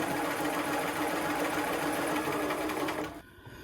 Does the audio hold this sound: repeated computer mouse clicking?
no